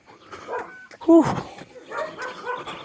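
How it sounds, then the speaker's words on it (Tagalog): Dogs on a village trail in Isla San Carlos City, Pangasinan, bark and yip in short bursts at moderate distance. Voices talk over the barking. "Daming aso."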